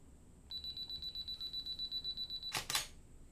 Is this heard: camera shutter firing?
yes